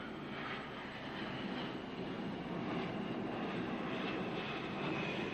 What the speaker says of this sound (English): casting an eye up to the aeroplane overhead